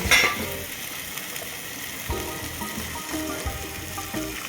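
A spoon stirs milk into a mango sheera mixture in a hot pan, giving steady close scraping and soft sizzling with repeated rhythmic clinks, and no voices.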